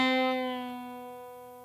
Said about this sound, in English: This is a pre-bend. This means you pick the string while it's already bent and then bring it back down to its normal